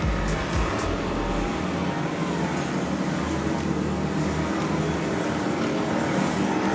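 Racing karts, including FP4-class machines, at the Clay Pigeon Kart Club championship sweep past on track as a dense, loud, continuous engine roar with no clear gaps between individual karts.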